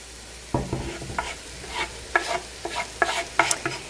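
Ground spices, including coriander, stirred in a hot pan, giving a series of scraping strokes over a low sizzle, close and moderately loud with no talking.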